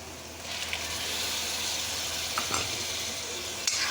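Masala with browned onions and tomato paste sizzling in a pan, a steady bright frying hiss with a few light clinks of a stirring utensil.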